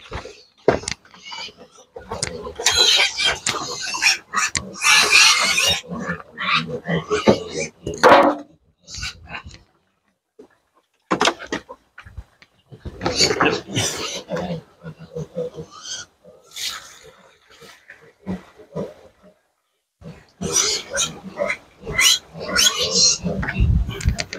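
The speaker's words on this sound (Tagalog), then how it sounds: "So kasi ganyan, pag nagugutom yung mga baboy." Hungry native pigs in a pen squeal and grunt in loud bursts with short pauses between them, close and harsh.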